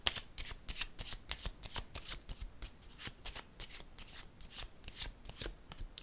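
Tarot cards are shuffled, handled and set down one after another in a rapid run of soft, crisp riffles and slaps, close and fairly quiet, with no voice over them.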